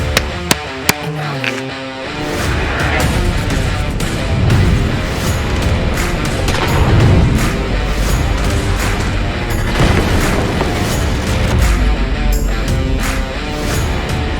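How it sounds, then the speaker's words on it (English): A Sig Sauer P320 X-Compact pistol is fired: a few sharp, separate cracks open the clip, followed by a loud, dense stretch of booming reports with no talking. "Andrew just picked up a Sig Sauer X Compact. This is his first shots"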